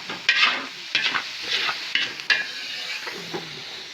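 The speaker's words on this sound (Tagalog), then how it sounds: "Gigisa muna po natin yung karne natin mga kapuso" Meat and carrots being sautéed in a pan for pancit, with repeated stirring strokes scraping through a steady sizzle, close and fairly loud, in bursts about every second.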